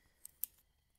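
Scissors snip at material tangled on a rescued bird, giving two faint, quick metallic clicks in close succession against quiet surroundings.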